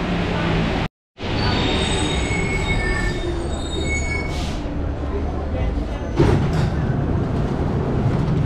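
A Paris subway train rolls through a station with loud, piercing wheel squeals and rumbling, a brief dropout early on, continuing steadily near the listener.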